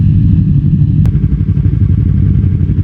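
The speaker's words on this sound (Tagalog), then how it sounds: "Yan yung mga motor namin." Motorcycle engines, including a Yamaha R3, idle loudly and close by, a steady low rumbling throb that doesn't let up, with one brief click partway through.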